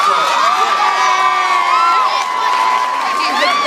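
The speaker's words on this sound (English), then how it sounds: "please give them a strong round of applause" A presentation audience cheers and whoops in a dense, loud crowd roar with high shouts layered over it, sustained for the whole stretch without a break.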